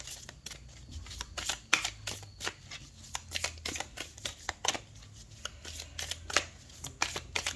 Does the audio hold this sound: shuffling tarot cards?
yes